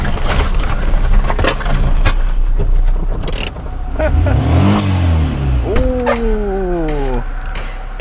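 A modified Perodua Viva with a non-standard 660 cc turbo engine idles, then revs up twice in rising, sweeping bursts. The second rev is longer and climbs higher before it drops back. The car is close by and loud over steady background noise.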